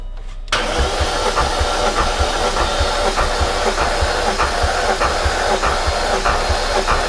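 A supercharged BMW S62 V8 from an E39 M5 cranking over on the starter during a compression test, with a steady rhythmic chugging that begins abruptly and carries on loudly for several seconds without talk.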